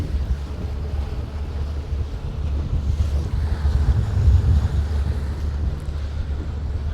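A small skiff cruises offshore through choppy sea near the jetties, the hull slapping and rumbling over waves with steady wind buffeting the microphone, continuous and fairly loud with no voices.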